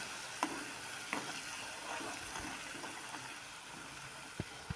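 Homemade hair oil sizzles and crackles as it fries in a pan, a faint, steady hiss dotted with a few sharp pops and spoon clinks, with no talking.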